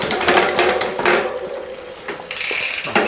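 A bicycle rear derailleur is shifted down to the smallest cog during a workshop repair, giving ratcheting clicks and the chain rattling across the sprockets, close and mechanical, with a brief cut in the middle.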